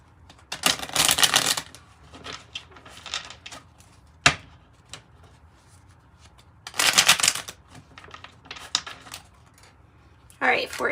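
Tarot cards are shuffled in several quick riffling bursts spread over the clip, close and crisp, with a single sharp tap between them.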